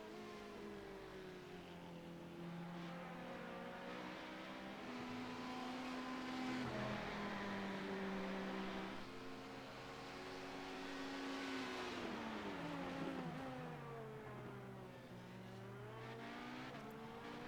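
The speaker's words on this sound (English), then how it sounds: "As Mcallister doing well here, he's about to have Fitzsimmons make his way around once more in the LMP2" LMP2 sports race car lapping a circuit, its engine rising and falling through revs and gear changes, a fairly faint, continuous drone heard from a distance with no talking.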